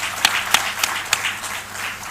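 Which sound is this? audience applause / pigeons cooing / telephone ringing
audience applause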